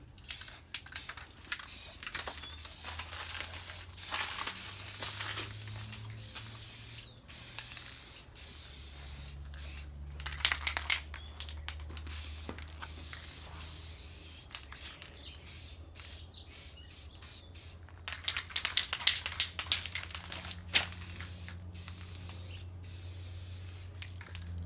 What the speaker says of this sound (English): It's hard spraying with spray paint.